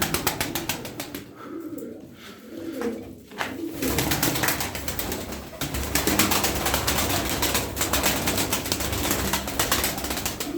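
Tumbler pigeons coo softly amid a dense, busy wash of bird noise, with a brief flutter of wings; steady, fairly loud throughout.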